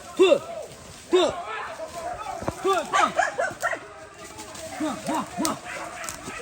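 Hunting dogs yelp and bark in quick, excited bursts during a hunt in the open, with repeated sharp yips at varying distances while people shout nearby.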